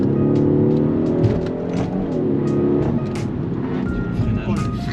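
A Peugeot 308 GTI engine revs up, with a steady loud mechanical drone and rising harmonic tones carrying through the whole stretch, heard from inside the car with voices talking over it.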